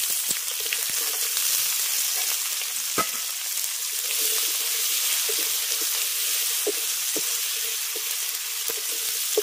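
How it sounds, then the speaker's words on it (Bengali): Diced potatoes frying in a pan with mustard, ginger and chilli paste for a vegetarian kolmi greens dish, a dense continuous sizzle with scattered crackles and pops, close and alone. "আলুটা দিয়ে মশলার সঙ্গে 1 মিনিট আগে একটু ভেজে নিলাম।"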